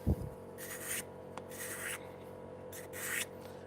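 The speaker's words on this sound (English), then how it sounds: "You can pretty much go in any direction, to be honest, with a card scraper." A card scraper rasps across wood in short, quiet strokes, several separate scrapes with pauses between them, close up.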